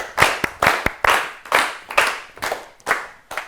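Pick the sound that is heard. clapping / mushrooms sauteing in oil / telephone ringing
clapping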